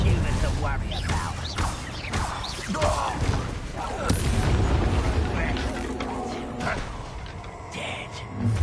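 A fire spell cast in a Harry Potter video game bursts into booming, rumbling blasts amid continuous battle noise, with speech mixed in.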